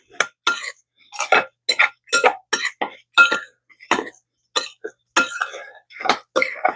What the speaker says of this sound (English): And we're going to stir to mix.